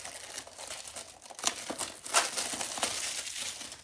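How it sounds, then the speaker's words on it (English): Cellophane wrapping on a Blu-ray case crinkles and crackles in a steady run of close, dry rustles, with sharper bursts partway through as the plastic is handled, and no voices. "For those who love the sound of cellophane crinkling."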